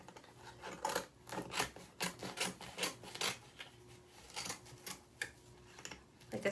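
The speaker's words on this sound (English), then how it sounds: "I'm going to take some scissors and cut this excess" Scissors snipping away excess material while upcycling a thrift store item into fall decor, a series of close, faint, irregular cuts and rustles heard alone.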